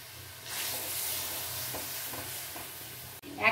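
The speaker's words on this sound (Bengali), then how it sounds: "1 মিনিট নাড়াচাড়া করে নিলাম বন্ধুরা, একদম হাই ফ্লেমে" Vegetables stirred in a pan over high flame for an alu patol curry, a soft steady sizzle with a few scraping stirs, fairly faint and without talk, ending in a short louder rustle.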